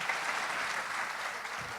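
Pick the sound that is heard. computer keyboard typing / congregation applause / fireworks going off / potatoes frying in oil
congregation applause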